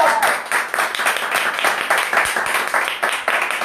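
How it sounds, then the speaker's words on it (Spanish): Brisk clapping from a small group of participants in a free online fitness class, close and lively, swelling and dipping in uneven bursts for a few seconds with no talking. "un aplauso para este gran equipo"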